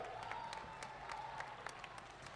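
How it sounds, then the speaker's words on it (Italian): Faint, steady clapping from a crowd at a K-pop contest awards ceremony at the Novegro winter fair, with scattered sharper claps and a light cheer mixed in. "Un applauso."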